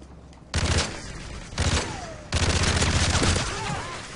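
Gunfire from the Call of Duty Modern Warfare 3 video game: loud rapid automatic bursts in three separate strings, with brief gaps between them and a faint voice underneath.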